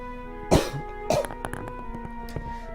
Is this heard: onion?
no